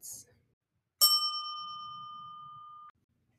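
A single bright bell ding for a page turn in an audiobook rings out clearly and sustains for about two seconds before cutting off, after a short soft sound.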